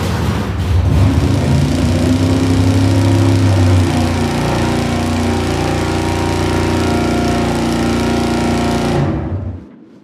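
A race engine on a dyno roars hard and loud at wide open throttle, a steady dense drone with some tonal shifts, then cuts off and fades to silence near the end.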